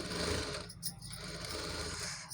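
A sewing machine stitches saree fabric at the neckline of a long frock, running as a steady, close, continuous whir with no talking.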